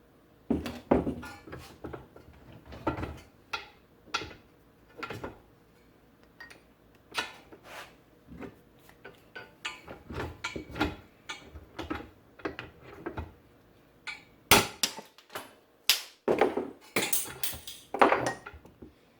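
A hammer knocks a U-joint out of a vehicle driveshaft yoke. Dozens of sharp metallic blows come close and irregular, some in quick bursts, with a cluster of harder strikes near the end.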